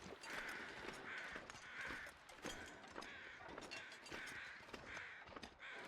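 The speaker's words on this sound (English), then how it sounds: "We have some crows." Crows cawing repeatedly in The Long Dark, a steady series of harsh calls spaced about every second over a low outdoor ambience, fairly close and clear.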